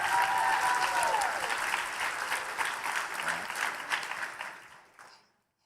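An audience applauds the finalists at the ASU+GSV Summit, a dense, loud round of clapping from a large crowd that holds steady, then thins and stops abruptly near the end, with a brief voice at the start.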